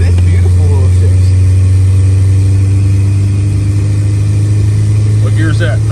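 A 1994 Ford Ranger with a 2.3-liter four-cylinder pulls through its gears from inside the cab. A loud, steady low engine drone runs throughout, and voices come in briefly.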